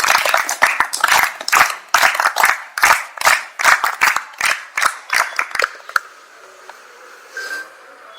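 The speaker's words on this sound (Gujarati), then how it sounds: "તો આપણે 3 તાળીથી એમનો આભાર માની" An audience at a school gathering clapping to thank guests, a brisk run of sharp, evenly spaced claps lasting about six seconds, then fading to quiet.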